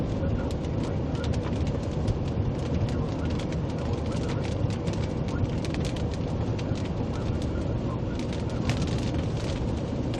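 Heavy rain pours steadily during a live storm chase drive, a dense continuous roar with sharp spatters, probably drumming on a vehicle, loud and close throughout with no talk.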